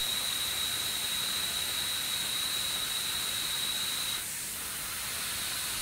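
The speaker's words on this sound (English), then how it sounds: "The cutting tool rotates at a high speed in order to machine this plastic part with a nice finish." High-speed milling cutter machining a plastic electronic enclosure part, a steady loud whining hiss with a sharp high tone that holds for about four seconds, then drops away to a softer continuous hiss.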